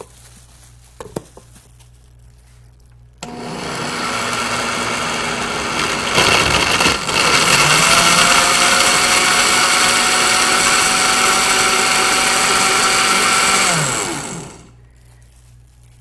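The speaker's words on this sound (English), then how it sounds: "we're going to start our blender." A kitchen blender whirs loudly for about eleven seconds while preparing a simple seasonal meal, starting abruptly with a surge in pitch and then holding a steady high motor whine before winding down and stopping.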